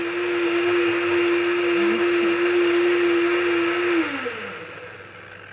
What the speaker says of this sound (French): dans un blender, un super blender qui va finalement mixer, mais surtout émulsionner